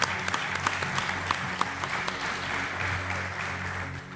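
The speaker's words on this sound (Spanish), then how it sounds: "por favor, un aplauso para Jesús Ortega" Applause fills a room for Jesús Ortega at a live podcast event in Zamora, a loud, continuous crowd clapping with scattered sharp individual claps, lasting the full few seconds.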